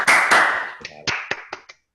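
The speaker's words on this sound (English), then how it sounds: "If you can, quickly unmute yourselves and applaud" A few remote attendees clap briefly after a talk on lattice sieving, starting as a short burst of layered claps and thinning to several isolated, close hand claps before silence.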